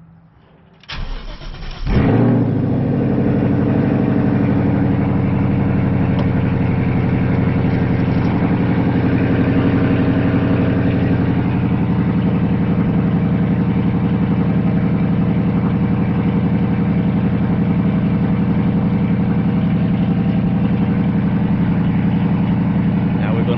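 A car fitted with a Corsa Xtreme quad-tip exhaust cranks and fires up loudly, then settles into a steady, deep rumbling idle that holds close and continuous for the remainder.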